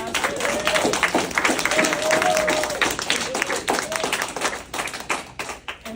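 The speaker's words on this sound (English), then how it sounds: "So let's give a round of applause." Audience applause after a keynote speech at an event, dense steady clapping from a crowd that carries for several seconds before thinning toward the end, with faint voices mixed in.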